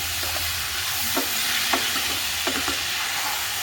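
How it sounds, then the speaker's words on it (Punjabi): Vegetable tempering (tadka) sizzles steadily in a home kitchen, a constant hiss with a few soft clinks and stirring taps scattered through, no voices. "ਇਹ ਮੈਂ ਤੜਕਾ ਲਗਾਤਾ"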